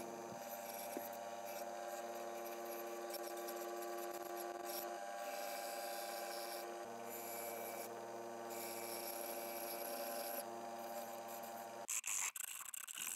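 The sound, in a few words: rasp filing wooden chair boards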